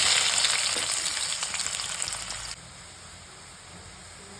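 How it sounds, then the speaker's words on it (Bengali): Onions frying in hot oil with bay leaf, cinnamon, cloves and cardamom for chicken curry, a bright close sizzle that fades and then drops suddenly to a quiet hiss. "আমার পেঁয়াজটা ভাজা হয়ে গেছে"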